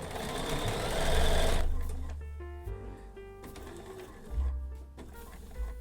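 A sewing machine runs in a loud whirring burst while binding is stitched onto a quilt entirely by machine. Softer mechanical hums and tones follow as the machine slows, with faint background sound.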